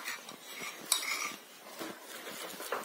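A spoon scraping and clinking against a bowl while a flour batter is stirred for a pumpkin plov recipe, soft irregular strokes with a few sharper clinks, close and alone without talk.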